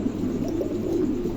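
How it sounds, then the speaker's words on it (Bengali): A pair of racing pigeons coos in a soft, continuous low murmur, steady and fairly close, with no voices. "এখানে এক জোড়া রেসার কবুতর আছে।"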